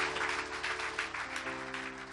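Applause from a church congregation acclaiming the Lord fills the whole stretch, a steady dense clatter of many hands over a low sustained hum of instruments or organ.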